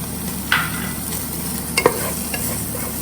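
Dhansak masala powder being sautéed in a pan, a steady close sizzle with a few sharp spoon scrapes and clinks against the metal, no voices.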